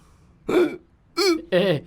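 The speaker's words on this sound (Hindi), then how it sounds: "इसको हिचकी आ रही है" Hiccups from a person in a dramatic film scene, three short voiced catches spaced about half a second apart, close and fairly loud against a quiet room.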